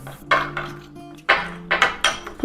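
A spoon clinks and scrapes against a bowl while a face pack paste is mixed, giving several sharp close taps and short scraping strokes with brief pauses between them.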